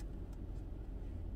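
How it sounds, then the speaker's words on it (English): A parked car's engine idles with a low, steady rumble, close and quiet, with a couple of faint ticks and no speech. "I'm over here running this car like I could really afford this gas"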